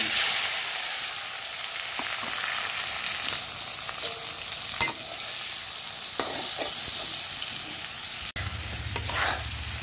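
Chopped onions and chilies sizzle in hot oil in a pan that was just used for frying eggs. A steady, close frying hiss is broken by occasional scraping stirs and clinks from the spatula.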